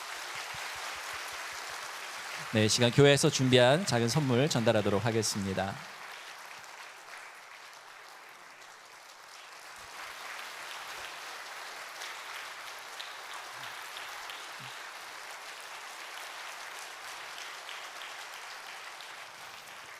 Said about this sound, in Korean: 우리 박윤준 목사님께 큰 박수 부탁드리겠습니다